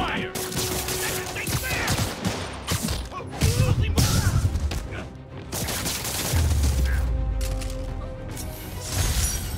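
Bursts of gunfire in the PS5 game Spider-Man, loud rattling volleys with crashes and booms layered over game music and voices.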